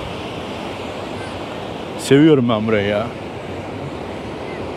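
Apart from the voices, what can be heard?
sea waves washing on a beach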